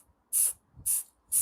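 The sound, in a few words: Wraithbone spray primer can spraying a miniature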